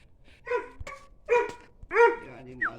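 A pet dog barks three times at close range, each sharp yap separated by a short pause, in an otherwise fairly quiet space.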